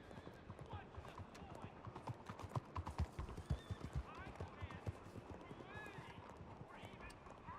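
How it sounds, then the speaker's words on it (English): Horse hooves clip-clop in a Western roleplay video game, a loose irregular patter of several mounts moving nearby, with an occasional whinny and someone talking over the hoofbeats. "That's his horse. That's all their horses."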